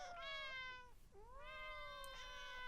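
Two drawn-out meows from cats, a long wavering cry followed after a short pause by a second rising one, fairly close and alone.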